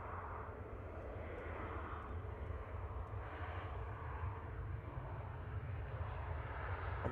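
A Ryanair airliner bound for Memmingen at Manchester Airport produces a steady, loud engine roar that holds constant throughout, with no talking.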